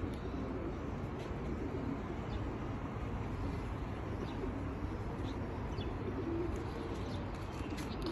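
Several pigeons cooing softly and continuously outdoors, a low steady murmur of calls with faint chirps over a constant background hum, no voices.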